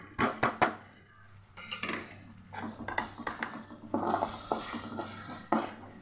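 Onions and ginger garlic paste being stirred in a pan, with clinks and scrapes of a utensil against the metal and a soft sizzle between the knocks, no talk.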